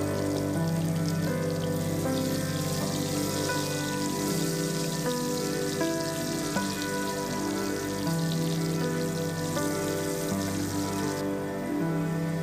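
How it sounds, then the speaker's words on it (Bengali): Potatoes seasoned with salt and turmeric frying in hot oil in a pan, giving a steady, dense sizzle and crackle close by that holds without a break, with no talking. "ভালো করে ভেজে নিতে হবে"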